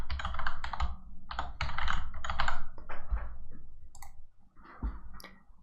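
A password is typed on a computer keyboard during a WebLogic 12c installation, in quick close bursts of clicking keystrokes with short pauses between groups, no voices.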